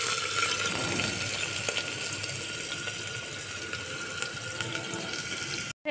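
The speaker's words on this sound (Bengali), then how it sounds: "তেলটা হয়ে গেছে, পেঁয়াজ কুচনোগুলো দিলাম।" Chopped onions hit hot oil in a pan for a spinach dal, giving a close, steady crackling sizzle that stays even for about six seconds before stopping suddenly.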